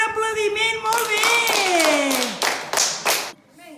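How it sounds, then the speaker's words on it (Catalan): A short burst of children's clapping in a primary school class after a magic performance, brief and close, over high-pitched young voices speaking and calling out. "ara, un aplaudiment, molt bé!"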